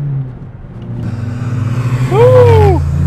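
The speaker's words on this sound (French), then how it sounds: "Et quand on accélère" Volkswagen Golf 2 GTI 16S engine accelerating, a loud, close, rising engine note with pulsing revs climbing through the gear and a whining tone near the end.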